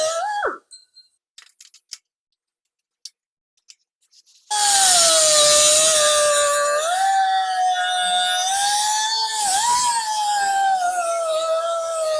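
A metal grill bracket for a 1964 Ford Falcon is cut to size. Scattered small clicks and taps come first, then a loud, close, sustained high-pitched cutting whine that wavers in pitch for several seconds, with no talking.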